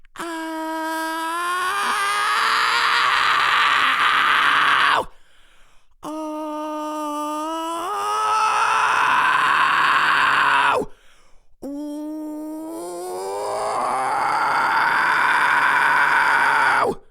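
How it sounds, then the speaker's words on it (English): Three long sustained vocal notes, each starting as a clean sung pitch and roughening into a gritty, distorted fry scream, separated by short pauses. "you can start on a clean note and then transition into a fry scream like this"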